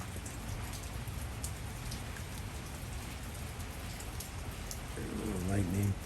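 Rain falls steadily in Los Angeles, a soft, even hiss of drops on surfaces, quiet and distant throughout, with a brief tonal sound near the end.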